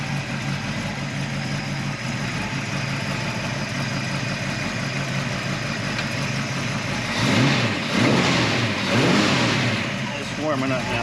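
A 1966 Ford Mustang GT engine idles steadily after a cold start while warming up, fitted with shorty headers, then revs briefly a few times near the end; people talk over the running engine.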